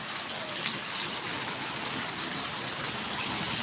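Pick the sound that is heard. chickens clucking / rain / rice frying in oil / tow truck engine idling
rain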